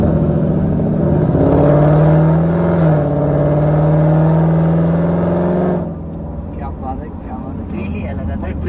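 A Ford Mustang drives and accelerates with a loud, steady engine drone that rises in pitch as it revs. The engine then eases off abruptly to a quieter hum.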